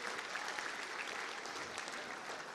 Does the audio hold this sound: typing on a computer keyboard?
no